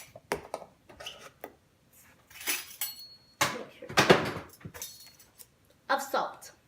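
Measuring teaspoons clink and rattle in short bursts while salt is measured out for a carrot cake, near and light, mixed with someone talking.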